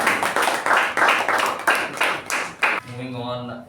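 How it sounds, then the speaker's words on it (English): A small group at a Toastmasters club meeting claps in a few short bursts of separate hands that fade quickly, and a voice then begins speaking over the tail end. "Can we give them a good round of applause?"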